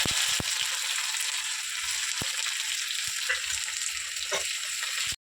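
Onions sizzle steadily in hot oil with dried red chillies, cumin, mustard seeds, black gram and split chickpeas, a dense close hiss with a few sharp spatters and pops throughout.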